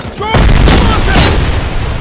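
A thrown explosive detonates in the video game RoboCop: Rogue City, a loud broadband boom that hits abruptly and then rumbles on for about two seconds, with game voices and effects mixed in.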